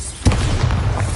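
Bombarda spell explosion in Hogwarts Legacy, a single heavy booming blast with a low rumbling tail, loud and close over game background sound.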